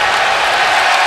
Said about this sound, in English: The Bronx cheer there that you hear is because that's the first foul of the game on UCLA.